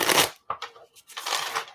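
Tarot cards are shuffled by hand in several quick riffling bursts separated by short pauses, close and crisp, with no talking.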